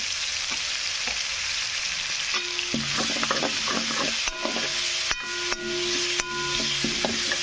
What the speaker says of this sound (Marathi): तेल गरम असल्यामुळे लगेच होऊन जातं. आपल्याला टाकायचे टमाटर. मस्तपैकी असं टमाटर टाकून घेऊ. टमाट्याला थोडं तळू द्यायचं.